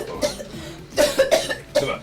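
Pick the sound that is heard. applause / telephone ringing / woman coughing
woman coughing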